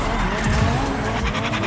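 A car drifting in Rocket Racing, its tires squealing in a loud, continuous skid layered over a steady engine roar, close and unbroken for the whole moment.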